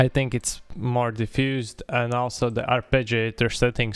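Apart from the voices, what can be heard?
No everyday noises stand out.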